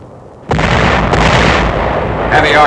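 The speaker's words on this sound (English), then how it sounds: "Heavy artillery on the mainland paves the way for another landing on Walcheren." Heavy artillery on the mainland firing before a wartime landing on Walcheren, a loud continuous rumble of booming gunfire that starts abruptly and holds steady, with bursts layered over each other.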